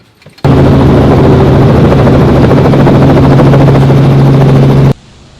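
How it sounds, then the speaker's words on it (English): A helicopter drones loud and steady from very close, its rotor chop and engine hum holding constant for several seconds before cutting off sharply. "We're taking this chopper."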